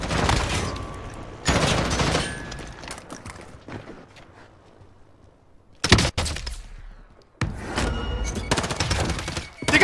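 Call of Duty Warzone gunfire rattles in dense automatic bursts, loud volleys broken by a quieter lull in the middle before the firing resumes.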